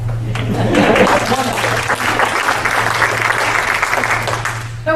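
An audience at a patriot group's political talk applauds loudly and steadily throughout, a dense broadband patter with a steady low hum underneath and a spoken word near the end.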